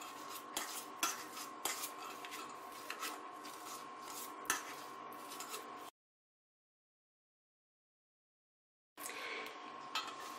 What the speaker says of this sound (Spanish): Y ahora bien con un tenedor, pues las podemos ir chafando.